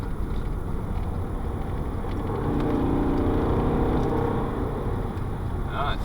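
A Volvo V50 D5 diesel estate with an EGR valve positioning fault cruising at speed under throttle, steady engine drone and road roar inside the cabin, with someone talking over it.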